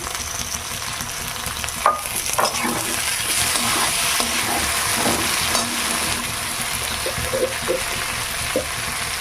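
Chopped tomato frying with bitter gourd in a pan, a steady close sizzle with occasional stirring clicks and scrapes throughout.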